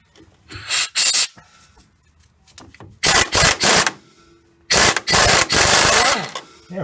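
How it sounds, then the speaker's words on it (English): An impact wrench hammers loose an old, rusted nut on a car's steering linkage in three loud, rattling bursts of roughly a second each, separated by quieter handling noises. "I'm just going to grab the impact, because this is old and probably rusted right in there."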